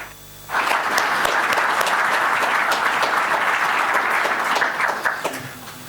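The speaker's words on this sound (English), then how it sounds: "please give us a round of applause for that" A conference audience claps steadily for several seconds, loud and sustained, then the applause fades out abruptly.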